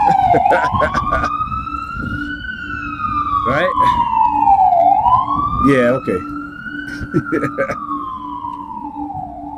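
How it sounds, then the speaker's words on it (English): A wailing ambulance siren rises and falls continuously, loud and fairly close, with people briefly talking over it. "they come around with their ambulance making all that noise"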